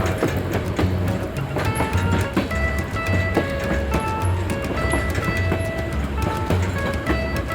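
Steady rumble and rhythmic clatter of a train rolling along the tracks in Alaska, heard from the back of the train, continuous with faint squeals over the top.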